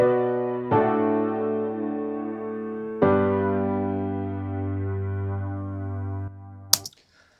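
Sustained electric guitar chords ring out through a Strymon Deco tape echo plugin with a slightly wavering pitch wobble, three struck chords in turn, ending with a sharp click.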